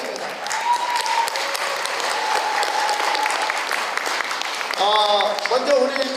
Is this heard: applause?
yes